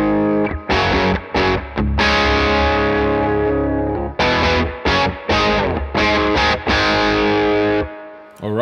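Les Paul electric guitar with humbucker pickups played through a Keeley Fuzz Bender fuzz pedal, giving thick, saturated chords in loud bursts with short gaps and a sustained ring out near the end.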